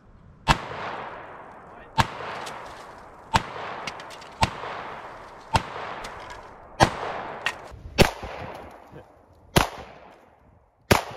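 Gunshots from a test fire of a firearm called The ARK, shooting at phones as targets: a series of about ten sharp, loud reports spaced one to two seconds apart, each with a short decaying tail, with no talking.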